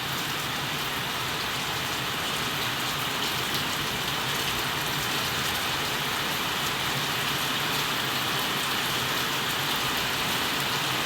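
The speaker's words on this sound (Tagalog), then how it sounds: "Sobrang lakas ng ulan." Heavy rain pours outdoors as a steady, dense broadband hiss that stays loud and unbroken throughout, with no voices.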